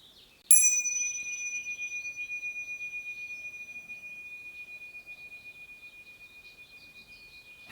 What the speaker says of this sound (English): Just take a moment now to ring the bells.